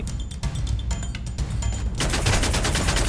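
Rapid gunfire in a video game shooter: a stretch of crackling automatic bursts, then a dense, loud barrage of continuous shots filling the second half, with no talk.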